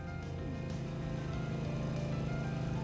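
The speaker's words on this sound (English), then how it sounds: "I know the sound of that engine." Vehicle engine in the video game Trails through Daybreak, a quiet, steady droning hum with a low tonal throb, continuous and unchanging over a few seconds with no talk.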